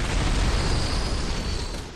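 A boss's fireball explodes in Bloodborne: The Old Hunters with a loud, close, roaring blast. A dense rumble fills the whole two seconds and slowly fades toward the end.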